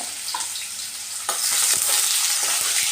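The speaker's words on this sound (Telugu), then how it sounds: "ఉల్లిగడ్డ ముక్కలు కోగుతున్నాయి" Onion pieces frying in hot oil for a fenugreek chicken curry, loud close sizzling that jumps louder partway through as they hit the pan, with faint stirring clinks and no talk.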